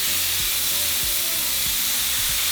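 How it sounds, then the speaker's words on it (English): Carne asada steak sizzling loudly on a hot cooking surface, a dense continuous hiss close up with several brief low thumps or scrapes spaced through it. "we're just going to cook the rest of our steak"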